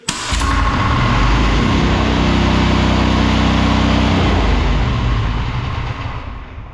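A Bolat 7 hp diesel tiller engine catching after a recoil start, then running loud and steady close by with a low, throbbing idle that eases off slightly toward the end.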